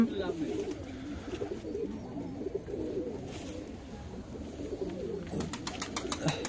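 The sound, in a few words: Madrasi pigeon cooing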